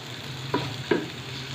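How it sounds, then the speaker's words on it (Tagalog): Garlic, onion and tomato being sautéed for pinakbet, with a faint continuous sizzle broken by two sharp stirring scrapes, close and quiet, without talk. "nagigisa na tayo ng bawang, sibuyas, and kamatis"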